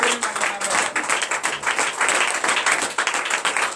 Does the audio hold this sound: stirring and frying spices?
no